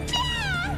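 A cartoon cat gives a single drawn-out meow, high and wavering with a falling pitch, close and clear over a low background hum.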